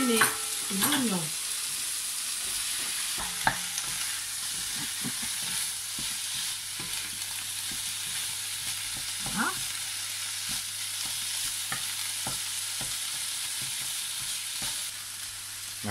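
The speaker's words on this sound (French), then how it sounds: "je vais ajouter mes oignons" Onions added to a pan of frying shrimp give a soft, steady sizzle, with occasional light utensil clicks and scrapes throughout; quiet and continuous, no talking.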